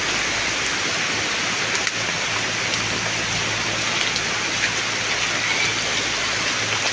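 Steady rain falls outdoors during a drizzle that is swelling floodwaters, a dense, even hiss of drops hitting surfaces that fills the scene with no pauses and no voices.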